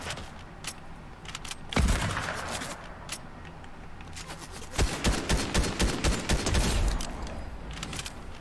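Gunfire in a video game battle, with sharp scattered shots and a heavy boom, then a quick rhythmic burst of rapid fire, all fairly faint with no talk over it.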